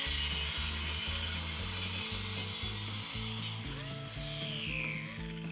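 A saw cuts 1/4 inch plywood for an upper cabinet build in rhythmic back-and-forth strokes, about two per second, loud and close, with no talking.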